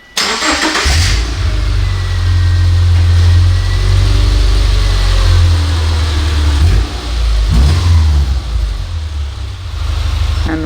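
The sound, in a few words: Subaru Impreza engine starting and idling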